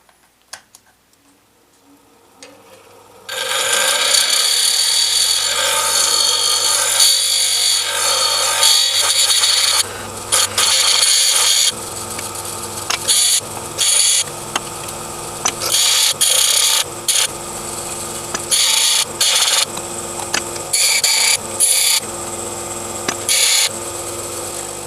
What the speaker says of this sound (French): Et puis on va gentiment venir meuler ici